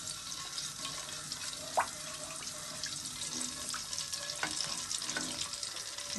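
Cumin seeds fry in a pan with a steady crackling sizzle, a close, continuous hiss broken by small pops and an occasional stirring scrape.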